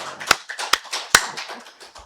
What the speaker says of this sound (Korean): 살아계신 하나님께 박수를 영광 드리겠습니다